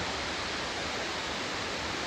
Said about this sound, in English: Freaking love Waterfalls, man.